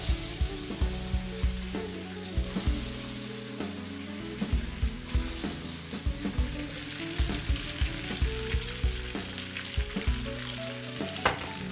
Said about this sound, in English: So you're gonna hear that lovely frying.